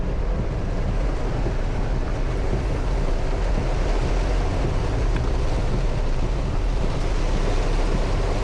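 Heavy rain pours on a car driving through a thunderstorm, a loud, steady, unbroken wash of water noise that holds evenly from start to end with no voices.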